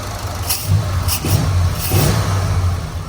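The engine of a 1967 Lincoln Continental fitted with Holley Sniper EFI idles with a deep rumble and rises in several quick rev surges, loud and close, with no talking.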